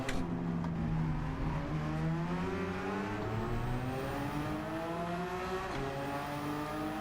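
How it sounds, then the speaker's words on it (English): A Porsche race car in Gran Turismo 7 brakes, its engine note falling through downshifts with descending whine and brief tire squeal, loud and continuous without talk. "What a weird braking phase from that Porsche."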